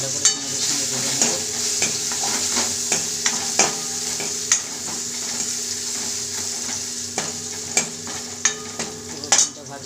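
Garlic paste frying with onion in a pan makes a loud, steady sizzle, broken by repeated scrapes and knocks of a spatula stirring close by.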